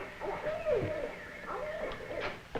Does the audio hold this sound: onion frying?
no